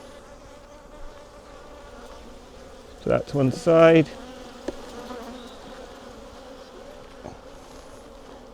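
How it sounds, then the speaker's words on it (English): A dense buzz rises from honey bees at an opened hive of darker, grumpy bees, a continuous close drone throughout with a short burst of nearby handling noise and a brief spoken remark over it. "See, these are darker bees."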